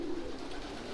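Racing pigeons in a loft sectioned for hens and cocks give a steady low cooing murmur, close and continuous, with no talk over it.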